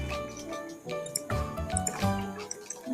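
Water placed in Minecraft Bedrock Edition, a short series of bright, bubbly liquid splashes and drips near the mic, layered over steady tonal game sound.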